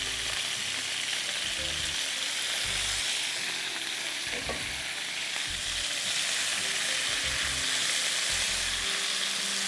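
Chicken sizzles steadily in a pan with garlic for Balochi karahi, a continuous close frying hiss with occasional stirring scrapes and clinks, no talking.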